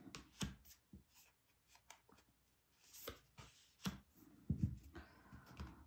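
Tarot cards being shuffled and drawn on a table, close and quiet, with soft irregular rustles, slaps and slides in short bursts, no voices.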